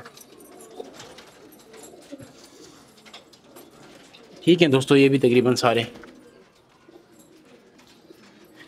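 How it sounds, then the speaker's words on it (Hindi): New pigeons coo in a loud burst of about a second and a half, close by, with someone talking in Hindi before and after and faint rustling around them. "अच्छा तो चलो दोस्तों अभी मैं आप लोगों को दिखाता हूँ अपने नए वाले कबूतर"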